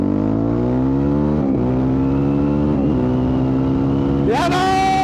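A Honda CRF450 dirt bike engine revs loud and close, climbing in pitch through the gears in bursts with brief dips at each shift and a sharp high rev near the end, ridden off-road in mud with wind buffeting.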